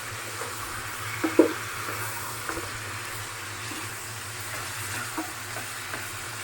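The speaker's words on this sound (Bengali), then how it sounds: "এলাচ চিড়ি দুটো বড় এলাচ আর তেজপাতা দিয়ে দিলাম মাংসটা অল্প একটু ভাজা হোক" Meat frying with cardamom and bay leaves gives a soft, continuous sizzle and hiss in a home kitchen, with a few faint clicks from stirring.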